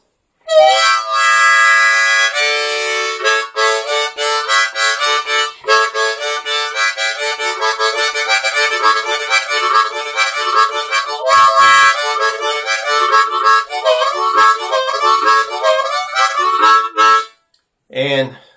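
A harmonica plays a chugging, train-like rhythm, its reedy notes pulsing and swelling with a wah-like opening and closing, loud and close.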